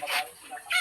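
Chickens cluck in short bright bursts as they are fed, one burst near the start and another at the end, close by with a quieter gap between.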